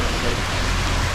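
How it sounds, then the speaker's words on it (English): Rain beginning to fall on a sailing boat in Scotland, a steady close hiss of drops spread evenly through the short stretch, with no talk. "it's starting to rain"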